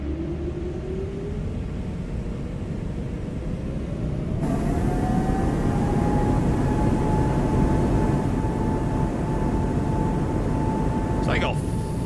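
Airbus A220 engines in a flight simulator game spool up for takeoff. A steady roar swells partway through as a rising whine climbs and then holds steady.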